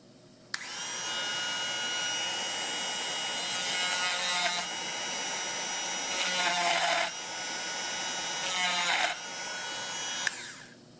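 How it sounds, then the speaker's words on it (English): A Dremel with a structured tooth carbon fiber ball countersinks holes in hardwood, a steady high-pitched rotary whine with brief louder grinding surges as the bit bites, close and alone. "it's called a structured tooth carbon fiber ball, and it's for Dremel"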